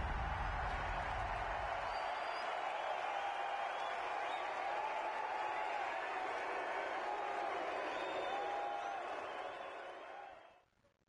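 A large crowd in the video game The Finals applauds and cheers in a sustained dense wash of clapping under a faint whistle-like tone, holding steady before fading out at the end.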